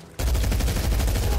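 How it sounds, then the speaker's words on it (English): Rapid gunfire in the video game Medal of Honor (2010) bursts in abruptly and continues as loud, rhythmic automatic shots with heavy low thumps. "I think we're getting shot at here."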